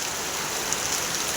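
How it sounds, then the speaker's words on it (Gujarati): Heavy rain falling outdoors, a steady dense hiss of drops on surfaces, uniform and unbroken. "ત્યાં વરસાદ શરૂ થઈ ગયો છે"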